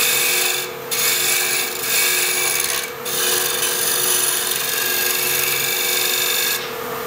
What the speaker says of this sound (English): We'll use a skew chisel. I'm going to put a little bit of a taper on this.